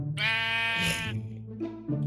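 A sheep in a Roblox video game gives a loud, drawn-out bleat followed by a shorter, quieter second bleat, with no talking over it.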